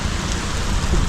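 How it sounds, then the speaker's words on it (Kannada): Heavy rain pours down at a roadside garage where a motorcycle is being repaired, a dense steady wash of noise with no gaps across a short moment. "ಮಳೆ ಬರ್ತಾ ಜೋರಾಗ್ತಿದೆ."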